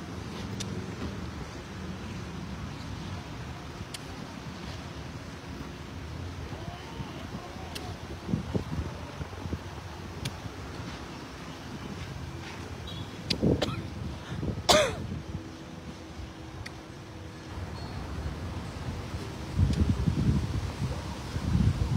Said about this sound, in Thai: โอ้ลมเย็นดีเจ๊ลมเย็นดีมากเลย